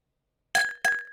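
Two glasses clink together during a toast, two bright ringing chinks in quick succession that each decay with a clear tone.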